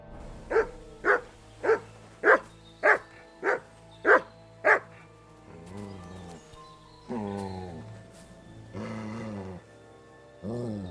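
Mutt, the dog in Kingdom Come Deliverance 2, barks eight times in a quick, evenly spaced run, then lets out a few softer whines and yips at close range.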